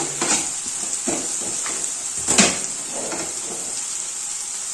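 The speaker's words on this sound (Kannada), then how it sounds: "ಇವಾಗ ಈರುಳ್ಳಿ ಎಲ್ಲ ಚೆನ್ನಾಗಿ ಫ್ರೈ ಆಗಿದೆ ಇನ್ನೊಂದು ಒಂದು ನಿಮಿಷ ಫ್ರೈ ಆಗಲಿ" Onions frying in a pan for a spicy home-made beetroot palya, with a steady sizzle and a few stirring scrapes of a spoon, close and fairly loud with no talking.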